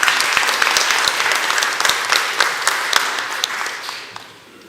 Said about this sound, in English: So let's give these folks a big round of applause,